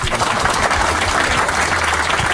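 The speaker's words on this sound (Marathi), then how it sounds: "तर एकदा दोघांसाठी पुन्हा टाळ्या वाजवा." A stand-up comedy crowd claps for two performers, a continuous, fairly loud patter of many hands with a low hum beneath it.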